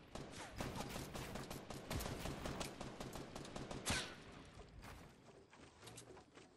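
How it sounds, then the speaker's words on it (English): Rapid gunfire in Fortnite, a dense string of crackling shots and bursts at moderate distance, steady for several seconds with one sharper crack near the middle before thinning out. "Oh, I'm getting sniped at."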